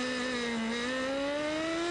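Formula 1 race car engine at the 1994 French Grand Prix, a loud sustained high-pitched whine steadily rising in pitch as it accelerates, heard alone without voices.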